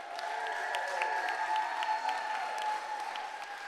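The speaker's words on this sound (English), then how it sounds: "If I can we just give a theater shout out and applause to Ernest" Applause from a theater audience at a legislative resolution presentation, a steady wash of clapping mixed with a musical tone underneath, moderately loud and continuous for a few seconds.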